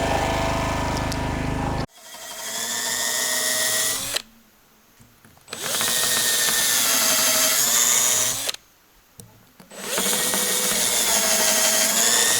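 A power sander runs on wood in loud, whining bursts of several seconds, broken by two short pauses of near silence, close up with no voices.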